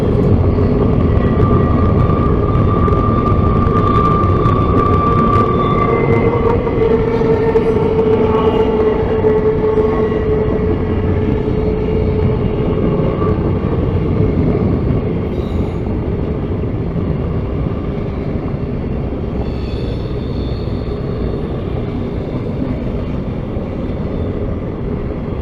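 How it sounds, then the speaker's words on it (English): An NS 4158 freight train in Georgia rumbles past steadily, a loud continuous roar of wheels and cars with a few faint squeals, nearby and unbroken throughout. "we happened to see this freight come by"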